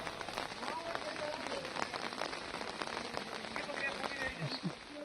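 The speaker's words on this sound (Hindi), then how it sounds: "सुबह से ही मूसलाधार बारिश ने जनजीवन अस्त-व्यस्त कर दिया है" Torrential monsoon downpour in northern India, with flooded surroundings. A dense, constant hiss and patter of heavy rain striking surfaces continues with scattered sharper drops throughout.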